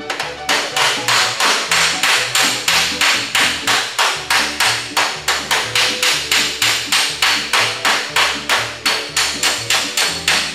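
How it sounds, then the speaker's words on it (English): A flathead body hammer strikes the sheet metal of a 1956 Cadillac with a side action in a fast, even rhythm of loud, ringing metallic blows, dozens of them close up with no talking. "I'm striking it at a side action"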